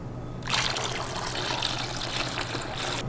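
A steady stream of water pours into an Instant Pot, starting abruptly and continuing evenly for a few seconds, close and fairly loud.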